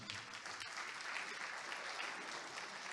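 A church congregation claps steadily in a sustained round of applause, dense and even for the whole stretch, heard alone without talk.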